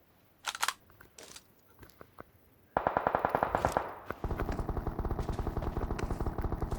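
Gunfire in PUBG Mobile on the Livik map: a few scattered shots first, then rapid automatic bursts of regular, fairly close cracks that run to the end.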